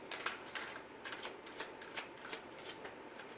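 Tarot cards shuffled and drawn one at a time during a reading, a steady run of crisp riffling flicks at close range with no talking.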